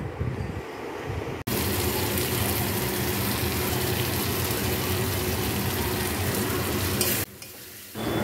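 Spice paste for khichuri frying in a pan, a dense, steady loud sizzle running for several seconds after a brief quieter opening, close up, ending with a sudden drop in level, no talk.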